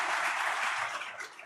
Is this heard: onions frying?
no